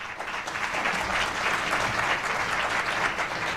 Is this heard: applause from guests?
yes